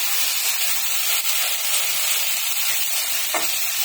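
Oil sizzles and hisses steadily in a pan, with a brief scrape of stirring near the end.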